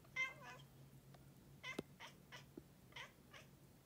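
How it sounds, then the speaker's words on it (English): A pet cat meows several times in a quiet room, short nasal calls spaced irregularly, fairly soft and close, with a small tap or thump between them. "What's up, Jeffy Cat?"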